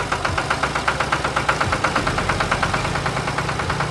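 A bright red cartoon tractor engine chugs steadily, a loud, close, rhythmic knocking putter at a constant idle pace, with no talk.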